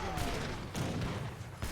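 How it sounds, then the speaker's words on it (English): Sebastopol mortars and culverins firing in the Age of Empires III battle, a few heavy booms and thuds in quick succession over constant background battle noise. "he's able to fire with these Sebastopol mortars"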